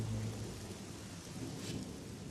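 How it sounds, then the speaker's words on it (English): Steady heavy rain with a low rumble of thunder at a driver training center, a dense, continuous wash of sound with the thunder fading early and no voices. "rain has moved in."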